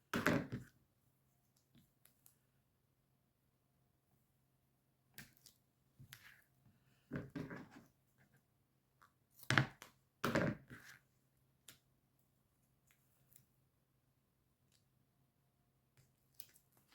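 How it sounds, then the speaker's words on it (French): Scissors cut a paper card by hand in a quiet room, giving a series of short, crisp snips and crunches in irregular bursts, several close together, with silent gaps between them. "Je coupe à peu près."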